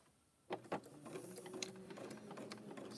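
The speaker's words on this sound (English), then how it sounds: "Stitching it in the ditch again." A sewing machine stitches in the ditch around a fabric coaster, starting with a couple of clicks and then running in a steady, close mechanical hum with light rhythmic ticking.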